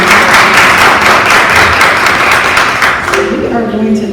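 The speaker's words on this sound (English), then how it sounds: "Let's give each party stage partners a round of applause." Applause from a summit audience welcoming panel partners, a dense steady wash of clapping that thins toward the end as a voice begins speaking.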